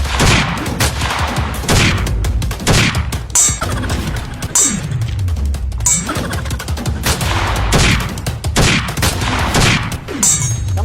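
Guns fire in a comedy skit sound effect, loud repeated bursts of shots in rapid volleys with short gaps, sustained for about eleven seconds, no talk over it.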